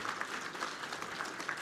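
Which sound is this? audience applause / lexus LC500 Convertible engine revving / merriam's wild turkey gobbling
audience applause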